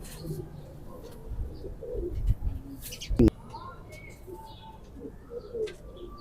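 Soft coos of Chena pigeons murmur at close range amid quiet background noise, with a couple of brief knocks partway through.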